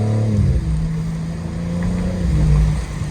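A 2024 BMW M4's inline-six revs while driving, a loud, steady engine drone whose pitch rises and falls slightly, heard up close from inside the car with no one talking.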